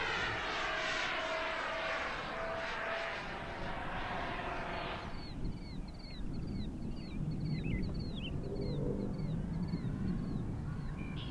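An Arrows RC MiG-29 jet model on 6S battery packs flies past at full throttle with a loud, whining roar that fades after about five seconds, leaving crows cawing repeatedly over an open-air background.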